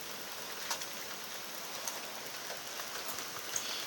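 Heavy rain falls outdoors in a steady, dense hiss of drops, with a few louder splashes standing out now and then; no voices are present.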